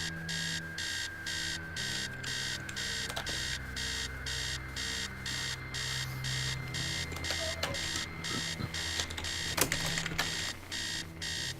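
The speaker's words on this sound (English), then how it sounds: "upstairs, the sound of an alarm clock blaring." An alarm clock blares in the horror game Stories Untold, a loud, rapid pulsing beep repeating steadily the whole time over a low background hum, with a few brief clicks and thumps near the end.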